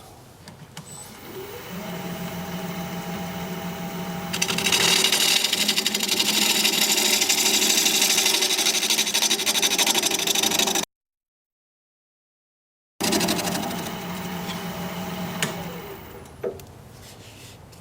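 Wood lathe turning a healed-over branch section into a bowl, a steady whirring hum with a rough, rasping cut as the tool goes deeper, close and continuous, briefly cut to silence before resuming.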